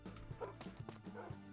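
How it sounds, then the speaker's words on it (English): A pack of tamed wolves (dogs) in Minecraft yips, whimpers and barks in quick repeated bursts, fairly faint and layered together. "Oh my god, there's so many dogs."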